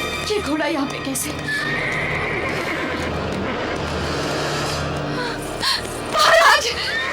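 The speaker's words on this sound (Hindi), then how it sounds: "ये घोड़ा यहाँ पे कैसे?" A horse neighs loudly in a devotional drama scene, a shrill whinny cutting through dense background music and noise, with a louder burst of sound near the end.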